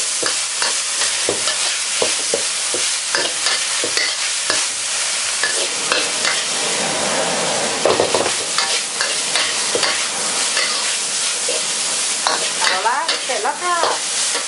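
Beef and holy basil leaves stir-fried hard over high heat in a wok, a steady loud sizzle broken by rapid scraping and clanking stirs throughout, with a few brief squeaky tones near the end.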